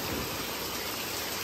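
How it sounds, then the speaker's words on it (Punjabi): Heavy rain pours steadily onto a flooded village street in the early morning, a dense, even hiss that fills the whole scene with no voices. "ਫੁੱਲ ਭਾਰੀ ਮੀਂਹ ਪੈ ਰਿਹਾ"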